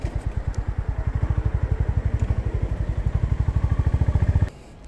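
A 2025 Honda GB350S retro motorcycle engine idles with a loud, even thumping pulse close by, then cuts off abruptly near the end, leaving quiet background.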